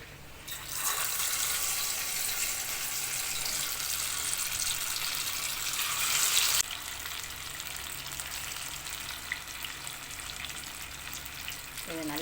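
Chicken 65 deep-fries in hot oil, a loud dense sizzle and crackle that runs continuously, surging brighter for a stretch and then settling to a steady hiss.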